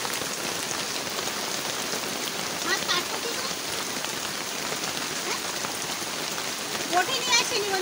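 Steady rain falling outdoors, a dense continuous patter of raindrops on surfaces with a few brighter splashes near the end; no talk is heard over it.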